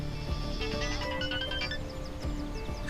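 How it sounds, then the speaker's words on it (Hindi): A phone ringtone chimes in a repeating electronic melody over a low background hum, steady and moderately loud. "ओह, शाहीन का फोन है।"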